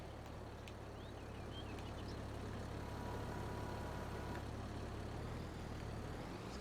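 A tractor engine in Farming Simulator 22 drones steadily throughout, a continuous low idling rumble held at an even level with no break.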